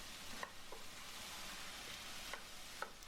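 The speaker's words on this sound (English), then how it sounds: "Give this a stir." Broccoli beef in brown sauce stirred in a pan, a soft steady sizzle with a few faint scraping clicks of the utensil, fairly quiet and alone.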